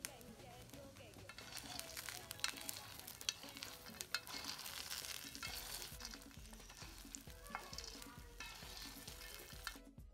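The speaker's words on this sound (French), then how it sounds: "Une fois la marmite bien chaude, y placez les palmistes et remuez de temps en temps." Palm kernels roast in a hot pot, a continuous crackling sizzle broken by repeated stirring scrapes and rustles throughout, quiet and fairly close.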